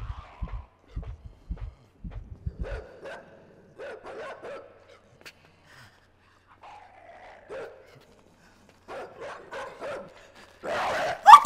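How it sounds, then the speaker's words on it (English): A dog barks in the video game Inside, starting with a run of low, close barks that give way to quieter, scattered yips and distant rustling, ending on a louder burst. "Is that a dog?"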